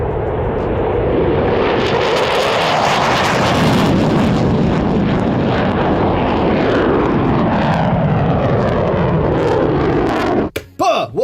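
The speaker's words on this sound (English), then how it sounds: "you can look at how an F-15 takes off" An F-15 Strike Eagle fighter jet roars loudly through a long takeoff, its broadband thunder holding strong and shifting in pitch as it passes, then cutting off abruptly at the end.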